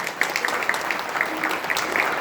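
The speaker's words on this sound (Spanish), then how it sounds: "Un fuerte aplauso a los jóvenes" Brief burst of audience applause for young people at a Spanish-language church gathering, a crowd clapping steadily in a reverberant hall, moderately close and continuous for a couple of seconds.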